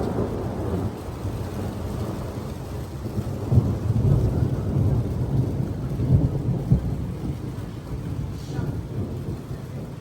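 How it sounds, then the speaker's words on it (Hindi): Evening rain falls steadily on a hot summer day in the UK, a close, constant hiss with low thunder rumbling beneath it, swelling midway and then easing. No voices are heard. "और फिर जिस दिन गर्मी थी उसी दिन शाम को ना अल्लाह की कुदरत देखें बारिश हो गई थी"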